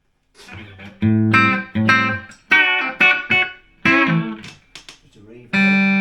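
Electric guitar played through a modified Fender Blues Junior tube amp with a JPF Amps tube PC board and reverb: a short riff of loud, sustained, slightly gritty notes and chords, each ringing out with a reverb tail between phrases.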